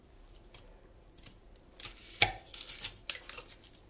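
A knife chops on a cutting board in a few scattered, crisp strikes, growing busier toward the end, close and fairly quiet with no talk.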